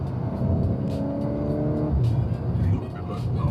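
A Volkswagen Golf 8 R 20th Anniversary revs its exhaust, the engine note rising and falling with sharp crackling pops, while voices talk over it.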